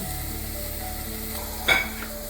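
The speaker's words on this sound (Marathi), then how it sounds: "गॅसवर कढईमध्ये तेल गरम करून यामध्ये बारीक चिरलेला कांदा घालून सोनेरी कलर येईपर्यंत छान परतून घ्यायचा आहे." Finely chopped onion frying in hot oil in a kadai over a gas flame: a steady close sizzle, broken once by a short clatter of stirring.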